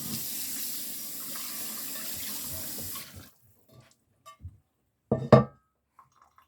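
Running water from a sink tap splashes over dishes for about three seconds, then stops, followed by a few soft clinks and knocks of dishes being handled, with one louder clatter near the end.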